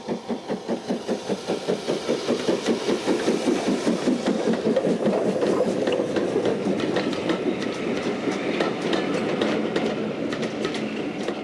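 Steam locomotive Camelot hauls a Bluebell Railway train of Southern green coaches, its rhythmic chuffing beats steady and loud close by, blending with rolling wheel clatter as it passes.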